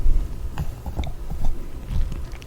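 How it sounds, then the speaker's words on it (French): A stress ball filled with Orbeez water beads is squeezed close up, giving soft, wet squishing and squelching pops in an irregular rhythm, quiet and with no talking. "J'ai acheté cette balle pleine d'orbises"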